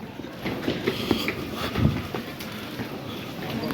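A train pulling in at a German station platform, a steady rumble with clanks and metallic squeaks, heard at moderate distance amid wind.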